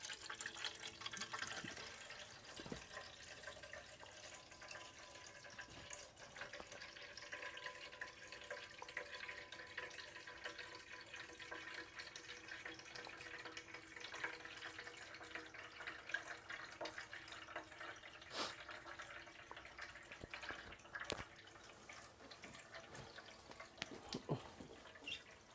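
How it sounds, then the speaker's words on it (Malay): Fresh water runs steadily from a tap as a sink or container fills, a continuous moderate splashing flow with a few sharper clatters along the way. "Kita onkan air baru."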